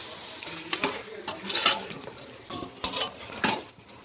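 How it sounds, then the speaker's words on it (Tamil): Raw chicken tipped into a pan of fried onions and tomatoes for biryani, with a low sizzle under scattered clinks and scrapes of a utensil against the pan. "வெங்காய தக்காளிலாம் நல்லா வதங்கிட்டு இப்போ வந்து சிக்கனை போட்டுக்கலாம்."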